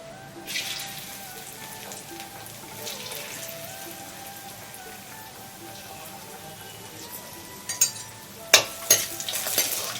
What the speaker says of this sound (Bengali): এখানে বড় চামচের এক চামচ ঘি দেওয়া হচ্ছে আমি এর মধ্যে কাজুটা আগে ভেজে নেবো